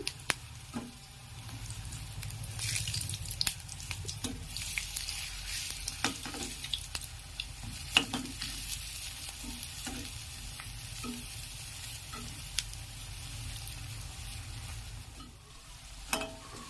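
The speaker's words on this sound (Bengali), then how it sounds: "তেল গরম হয়ে গেছে, তাই আমি ব্লেন্ড করে নেওয়া ছোলার ডালগুলো বড়ার আকারে ভেজে নেব।" Chickpea dal fritters fry in hot mustard oil, giving a steady close sizzle throughout with occasional clicks and taps of a utensil turning them, and no voices.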